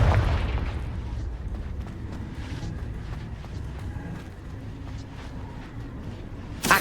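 A Confringo fire spell explodes in a Harry Potter video game, heard as a dense, rumbling blast that roars from the start and then holds steady, ending with a sharp pop. No one talks.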